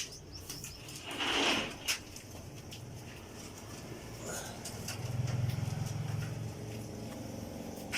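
Pigeons flap their wings in a brief rustling burst near the start, followed by soft low cooing later, fairly faint against an outdoor background with no talking.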